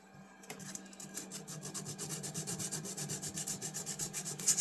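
Fine 220-grit sandpaper works over a rusty Camillus hawkbill knife blade in quick, even back-and-forth strokes, a soft close rhythmic rasping that starts after a brief pause.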